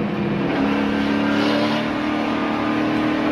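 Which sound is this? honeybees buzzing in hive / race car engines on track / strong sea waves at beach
race car engines on track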